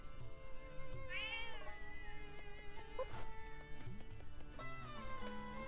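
Cats meow in The Legend of Zelda: Echoes of Wisdom, a few short, clear in-game mews rising over a continuous game music bed.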